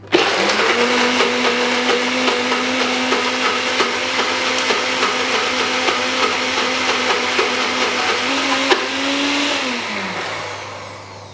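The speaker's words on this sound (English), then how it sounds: "And then we're just going to put everything and blend it until it's creamy." A blender whirs loudly as it blends a pistachio and rose water cream, a steady motor roar with rhythmic chopping pulses for several seconds before it winds down and stops.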